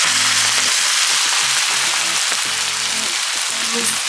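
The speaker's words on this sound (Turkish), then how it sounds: "Isıttığım tavaya bunu boşaltıyorum." Chopped spinach, mint, dill and parsley hitting a preheated pan, a loud, dense, continuous sizzle that fills the whole clip, with a faint voice talking underneath.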